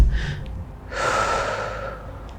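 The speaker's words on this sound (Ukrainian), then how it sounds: "затримкою дихання, е, вдихом та затримкою дихання" Deep breathing exercise for emergency psychological calming: a short sharp breath, then a long, loud, close inhale lasting about a second, followed by a quiet pause as the breath is held.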